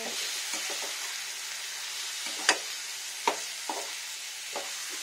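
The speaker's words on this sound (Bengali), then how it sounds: "এখন পুরো সব কিছু মিশিয়ে নেবো, পটলগুলো, আলু পটল সব। এবার নাড়া দেবো করে।" Potatoes and pointed gourd frying in a pan give a steady hissing sizzle, broken by several brief scrapes and knocks as the pieces are stirred, close up and fairly quiet with no talking.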